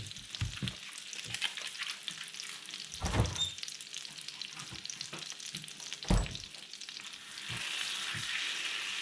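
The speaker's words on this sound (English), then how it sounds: "That's why I use butter to deep fry it." Wiener schnitzel deep frying in butter on an induction stove, a steady crackling sizzle throughout with a few louder clattering bursts of handling, no talk.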